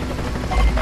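Helicopter air support in Gears of War 3, a steady low rotor drone that swells louder near the end of the short moment, with no talk.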